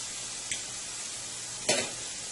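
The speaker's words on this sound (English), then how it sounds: "So I have my fish frying up there nicely." A steady, gentle sizzle of fish frying in a pan, with two brief louder crackles or stirring scrapes.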